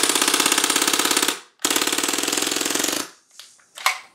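A Tactical Force TF11 Mac11 gas airsoft gun fires its full magazine in two long, rapid rattling bursts of about a second and a half each, followed by a few faint clicks and a last sharp snap.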